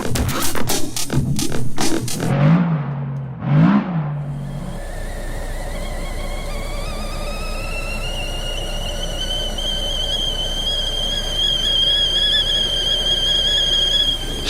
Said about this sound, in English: is the sound of the whistling kettle coming alive with a nice cup of Earl